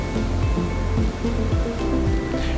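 Ocean waves wash steadily onto the shore at Crescent Bay Beach in Laguna Beach, a loud, continuous surf roar with rhythmic surges and a constant hiss of water.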